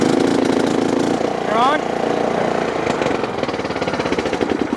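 A Craftsman LT1500 lawn tractor engine cranks and catches, settling into a loud, close, steady mid-pitched running chug, while people talk over it.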